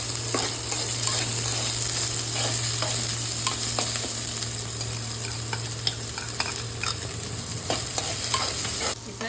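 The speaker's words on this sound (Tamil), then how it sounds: "வெங்காயம் வந்து வதங்கிடுது." Onion sautéing in hot oil with urad and chana dal in a pan for kara paniyaram, a steady loud sizzle with frequent light spatula scrapes and ticks throughout.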